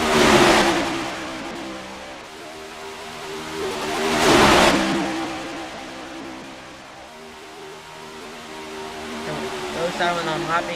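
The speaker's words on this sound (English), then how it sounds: "Brent News taking the lead, it seems like, in that Toyota car." A Toyota stock car engine revs on the Daytona backstretch during a race, with two loud engine passes swelling and fading over continuous distant engine drone, with commentary talk faint underneath.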